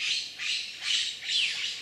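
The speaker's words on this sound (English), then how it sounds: "with red-shouldered macaws" Four harsh, raspy squawks from red-shouldered macaws in quick succession, fairly close and loud, with no other sounds, in Brazil.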